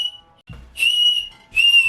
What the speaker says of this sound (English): has just found a whistle, so he's being very loud